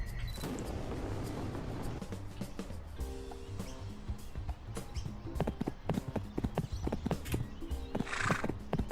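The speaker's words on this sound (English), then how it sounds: "These horses handle better than they do in Red Dead" A video game horse with rapid clip-clop hoofbeats growing louder and more distinct, ending in a bright neigh near the close, over steady game background sound.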